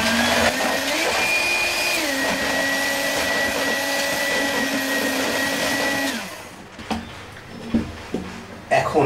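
An electric hand mixer whirs steadily while beating eggs and milk for a bread pudding, its motor pitch shifting partway, then it cuts off, leaving scattered clinks and knocks from the bowl.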